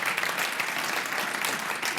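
An audience at a tech ecosystem conference claps for Kevin, a brief, moderately quiet spell of steady applause from a crowd.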